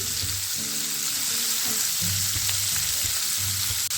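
River prawns frying lightly in a pan of hot oil, giving a steady, close, continuous sizzle with soft crackles throughout.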